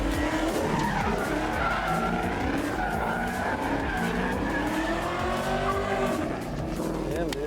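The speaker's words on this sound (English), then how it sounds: "You saw those rear tires just lock up just like you want, and then he just coaxed it right through" A car skids as its rear tires lock up in a handbrake slide, a long loud squeal with wavering pitch that carries nearly unbroken, engine noise beneath it.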